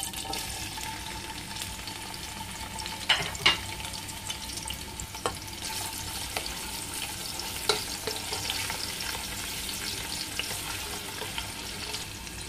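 Onion for papaitan sautés in a pan, giving a steady moderate sizzle broken by a few scraping stirs and utensil clicks.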